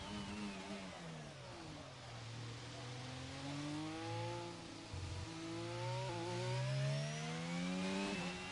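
An F1 2022 racing game car screams through a fast lap at Abu Dhabi, engine pitch dipping on downshifts into a corner then climbing again under acceleration, steady and prominent throughout.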